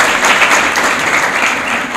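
A crowd at an education event claps steadily and loudly, a dense even wash of hand claps lasting two seconds with no pauses.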